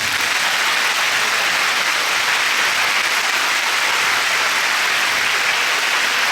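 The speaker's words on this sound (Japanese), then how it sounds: "拍手で" A concert crowd applauds in a continuous, loud wash of clapping that holds evenly throughout with no voices or music.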